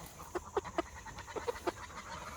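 Silkie and Polish chickens let out six short, honking clucks in two quick groups of three. The calls are moderately close over a faint background hiss.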